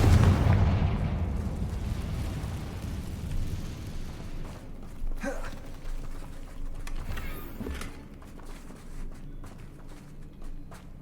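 A Confringo fire spell bursts in Hogwarts Legacy, with a loud blast up front that rumbles and decays over several seconds, followed by scattered smaller crackles and impacts.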